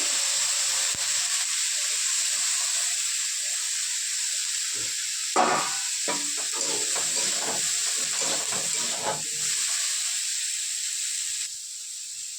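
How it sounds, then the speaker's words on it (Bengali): Vegetables frying lightly in hot oil in a home kitchen pan, with turmeric and salt added, give a steady soft hiss and sizzle throughout, with a few brief louder crackles in the middle and no talking. "ওই তেলেই বকলিগুলোকে ভেজে নেবো"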